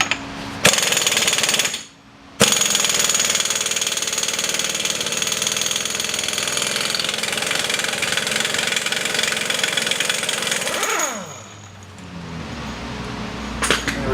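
An air-powered impact tool hammers in a rapid, loud, continuous rattle on the spindle nut of a 2008 Pontiac Grand Prix. It breaks off for a moment and then resumes, with a compressor droning underneath.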